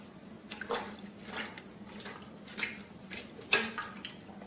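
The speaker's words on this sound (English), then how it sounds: "we're just going to plunge this right into the water." Linen burlap is plunged into a bath of coffee dye, giving faint, intermittent watery sloshes and splashes with one sharper splash near the end, quiet throughout with no talk.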